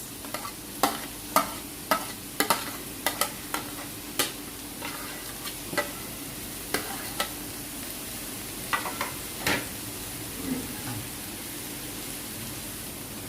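Vegetable fried rice with green onions being stir-fried, a steady sizzle broken by a series of sharp spatula scrapes and clacks against the pan at irregular intervals, close and moderately loud with no talking.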